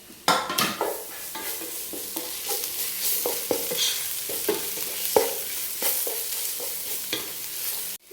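Garlic and curry leaves sautéing in a pan for a meat roast, a steady close sizzle broken by repeated scraping and tapping of a spatula against the pan.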